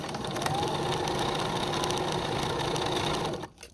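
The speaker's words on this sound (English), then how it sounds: "we're ready to sew. We've got this basted together here, and I've just got my machine on regular settings" A sewing machine on regular settings stitches basted-together velvet fabric, a steady close mechanical whir that runs without pause for several seconds before stopping abruptly near the end.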